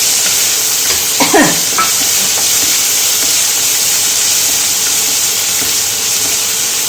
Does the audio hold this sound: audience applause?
no